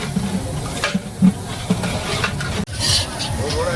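Tempering for a Marathi potato bhaji sizzles in hot oil while being stirred in a large pot for a communal pilgrims' lunch, with scraping stirs and a steady fry hiss, a few voices murmuring underneath.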